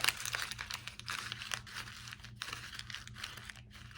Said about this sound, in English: the other one I'm going to crumple up into a ball